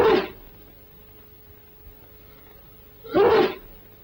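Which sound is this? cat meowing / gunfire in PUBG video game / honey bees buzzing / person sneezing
person sneezing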